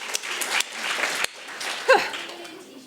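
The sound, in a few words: audience applause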